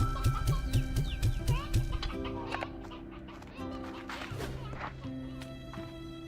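Sea hens in the video game Slime Rancher 2 cluck in a quick burst of repeated clucks, followed by quieter intermittent clucking over a steady game background hum.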